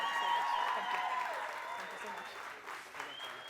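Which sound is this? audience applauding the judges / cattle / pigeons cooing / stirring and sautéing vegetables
audience applauding the judges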